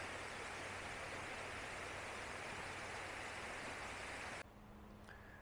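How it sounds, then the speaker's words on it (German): Mountain waterfall beside a hiking trail in the Ötztal, a loud, dense, continuous rushing roar heard close by, cutting off abruptly near the end. "Auch ein schöner Wasserfall."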